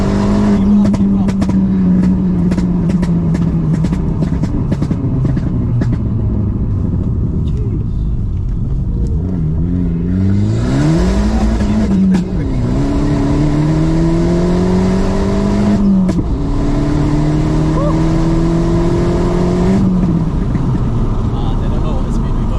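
A 2009 Abarth 500 tuned to Stage 1+ accelerates hard on a race track, its engine note climbing loudly through the revs in repeated rising sweeps, with voices talking inside the cabin.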